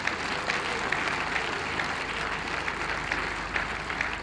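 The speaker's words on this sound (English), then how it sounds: "Please, I want you to all say thank you and give him a resounding round of" A crowd claps continuously and vigorously at a ceremony, a thick, even wash of applause that stays loud throughout with no speech over it.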